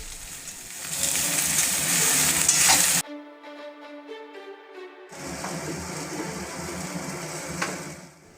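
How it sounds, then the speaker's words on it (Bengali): Vegetables and eggplant frying together in a pan for Bengali shukto, a loud steady hiss and sizzle that drops out briefly for a quieter tonal stretch before the frying noise returns. "সব দিয়ে একসঙ্গে ভেজে নিচ্ছি।"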